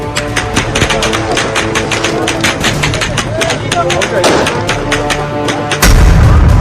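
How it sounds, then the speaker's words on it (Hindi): Taliban gunfire in Afghanistan: a dense, unbroken stream of rapid shots and thuds, with voices audible under the firing and a louder blast near the end. "46 सेकंड तक सिर्फ दनादन फायरिंग होती रही"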